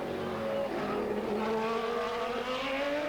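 Racing cars at Mondello Park during a 1999 EuroBOSS race, engines howling as they rise in pitch through the gears, fairly distant and continuous with a faint tire squeal.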